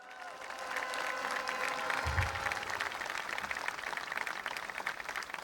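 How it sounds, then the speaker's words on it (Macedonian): Thunderous applause from a large crowd honoring police officers at a political speech in North Macedonia, a dense, steady roar of clapping lasting throughout, with a brief low thump partway. "громогласен аплауз."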